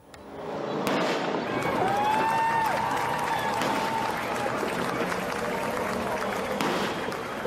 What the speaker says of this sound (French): Sous les applaudissements de centaines de personnes venues l'acclamer